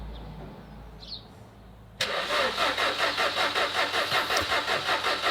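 A 2007 Ford Focus 1.6 Ti engine cranks on jump leads without firing, a loud, rapid, even rhythmic churn of the starter motor that begins suddenly after a quiet pause and continues steadily.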